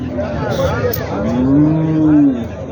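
Buffalo calves at a busy livestock market give long, loud, close moos with a rising and falling pitch, with faint voices in the background.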